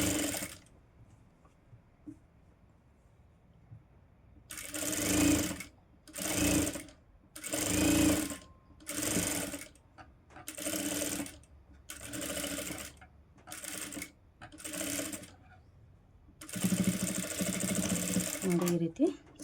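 A sewing machine stitches a blouse in repeated bursts of whirring, each a second or so long with short pauses between, loud and close, with a longer run near the end.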